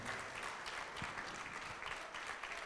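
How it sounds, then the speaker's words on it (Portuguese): A Portuguese-speaking church congregation claps in praise of the Lord, a dense, even stretch of crowd applause heard from a distance without a break. "vamos aplaudir mais ao nome do Senhor"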